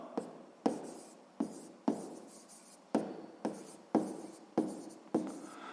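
Pen writing on paper up close, a series of about ten sharp scratchy strokes, each starting with a tap and trailing off, in an otherwise quiet room.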